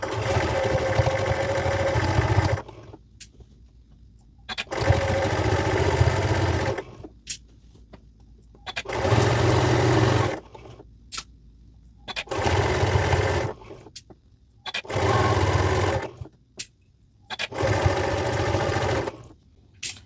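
A sewing machine stitches Shannon Fabrics Bambino Cuddle plush fabric in six bursts of steady whirring, each lasting about two seconds, separated by short pauses and faint clicks, close and clear with no talking.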